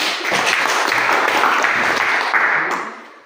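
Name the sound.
applause from the teachers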